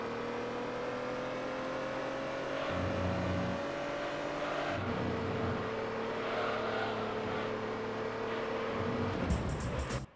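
Race car engine in Gran Turismo 3 running a cone slalom flat out: a steady, loud engine drone that rises in pitch and shifts gears, with tire and road noise and no talk.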